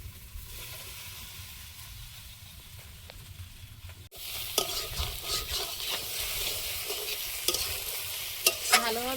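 Spice paste fries in a wok, quiet at first, then a louder close sizzle with steady scraping stirs and a few sharp metallic taps near the end.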